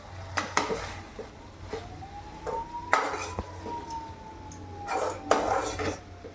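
Dried prawn thokku being stirred in a pan: repeated scraping strokes of a spatula against metal, close and clear over a soft, steady sizzle, with no one talking.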